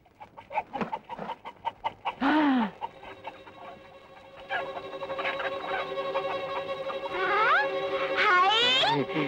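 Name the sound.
chicken clucking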